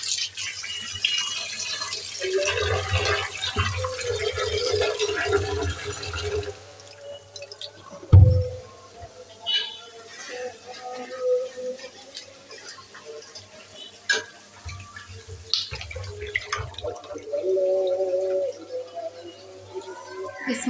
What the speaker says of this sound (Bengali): নতুন করে পানি দিয়ে একবার ধুয়ে দিই।